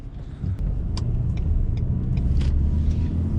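A Renault Captur 1.3 TCe pulls away and drives off, with a steady low engine and road rumble building after a moment and holding loud and close inside the cabin, with a few faint clicks over it.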